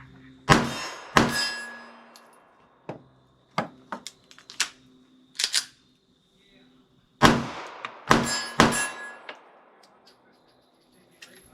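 A Staccato CS pistol fires at an outdoor range as sharp, loud gunshot cracks in irregular clusters, each with a brief ringing tail and quiet gaps between.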